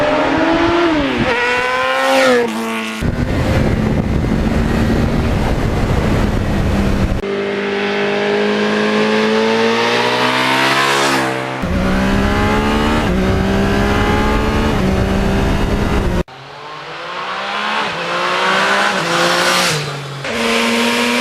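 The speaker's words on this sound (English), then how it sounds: "just do a power wheelie" A 1982 Suzuki GS1100E motorcycle pulling a power wheelie, its engine revving hard and loud through rising gear pulls with shifts between them, close and continuous with no talk.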